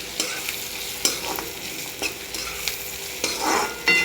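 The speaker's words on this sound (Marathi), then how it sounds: "कांदा आपला चांगला गुलाबी असा भाजत आलेला आहे." Onions sizzling in a pan with asafoetida powder added, a steady frying hiss broken by several sharp scrapes and clicks of a spoon stirring, close and moderately loud with no voices.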